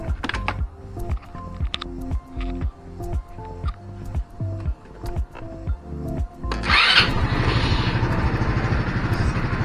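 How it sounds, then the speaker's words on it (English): Mechanical clicking and cranking, then a 150cc carbureted scooter engine catches around seven seconds and settles into a steady, buzzing idle. "go ahead and turn on your scooter"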